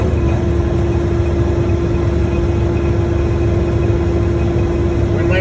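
A commercial truck's diesel engine idles during a CDL in-cab and air brake check, held around 1500 rpm as a steady, loud, unbroken drone with no other prominent sounds.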